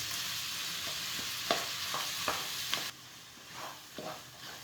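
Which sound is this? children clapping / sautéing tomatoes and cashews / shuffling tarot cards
sautéing tomatoes and cashews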